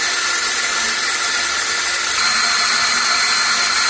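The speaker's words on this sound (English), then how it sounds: "So now we've drilled all four holes on the 2x2 tube" Power drill boring holes through a 2x2 metal tube, a steady high-pitched whine with grinding that holds for the whole stretch, loud and close with no talk over it.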